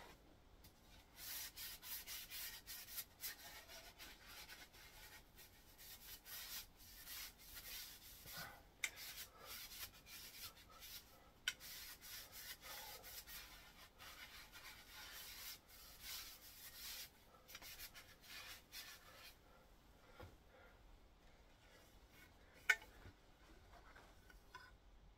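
Sandpaper rubs along a wooden axe handle in quick, continuous back-and-forth strokes, faint and close, with a few small knocks and no speech.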